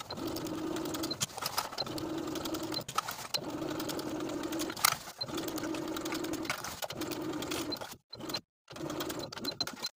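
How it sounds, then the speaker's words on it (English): Sewing machine stitching around the neckline of a top, close steady whirring runs broken by short pauses, with a couple of brief silent gaps near the end. "Now I'm going to stitch around the entire neckline with about 1/4 inch seam allowance, stitching right in line with the crease from my bias tape."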